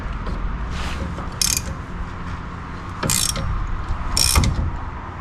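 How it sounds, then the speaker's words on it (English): A ratchet wrench turns during installation of an OX locker on a Roxor build, giving three close, bright bursts of clicking spaced over a few seconds against a low mechanical rumble. "maybe I gotta turn the wrench around this way."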